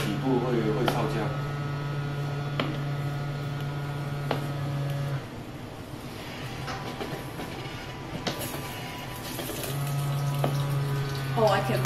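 Oil sizzles and splashes inside an automatic cooking robot, a steady loud hiss with scattered crackles and clicks running throughout, mixed with mechanical hum.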